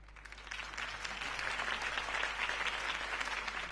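A steady roar of crowd applause in the Batman Telltale Series game, dense and continuous, fairly distant and even in level throughout, with no voices standing out.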